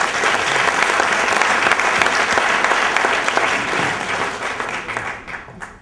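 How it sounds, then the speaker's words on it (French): Loud, sustained applause from the crowd at the 2011 Tremplins awards ceremony, a dense continuous roar of clapping that thins and fades near the end. "on peut les applaudir"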